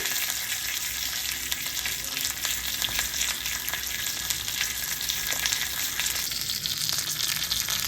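Hot tadka of oil, chili, hing and curry leaves poured over chana dal chutney, giving a loud, steady sizzle with crackling spatter heard close up and uninterrupted.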